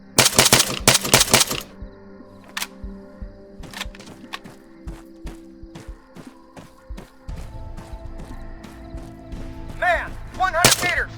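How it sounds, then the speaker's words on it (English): An artillery strike lands in ARMA 3 amid a military assault: a rapid cluster of sharp, loud blasts and cracks, then scattered impacts and gunfire under a low rumble, with brief radio-like voices near the end. "artillery support at the designated coordinates"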